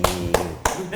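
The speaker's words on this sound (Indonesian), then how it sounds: "kita kasih tepuk tangan untuk Mr. Enki Betty." Short bursts of clapping from a crowd, several quick waves of applause within a second, with a voice faintly underneath.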